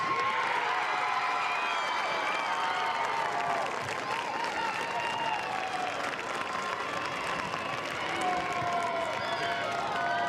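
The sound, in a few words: crowd applause for homecoming king and queen at football game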